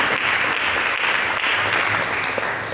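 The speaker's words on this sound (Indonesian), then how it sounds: "Mari kita berikan tepuk tangan yang menyala bagi Tuhan." A church congregation claps during a sermon in a steady, full wash of applause that holds at an even level from start to finish.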